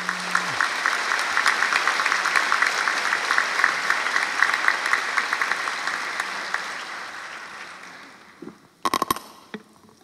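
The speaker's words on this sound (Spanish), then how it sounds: "Vamos a recibirlo con un fuerte aplauso." An audience gives strong applause welcoming former Uruguayan president Julio María Sanguinetti at Expocomer 2017, with dense clapping that gradually thins and fades out, followed by a few brief knocks near the end.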